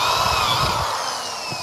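A corded power drill with a bit bores steadily through material, a loud, continuous motor whine and grinding roar with no pauses.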